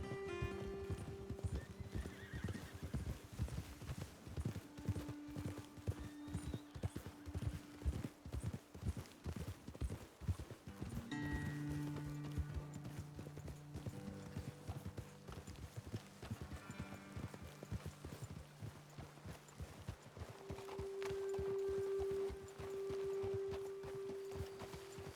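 Hooves clop in a steady riding gait, close and clear, with loud neighs and snorts from the horse, in the frontier world of Red Dead Redemption 2; a low musical drone sits underneath.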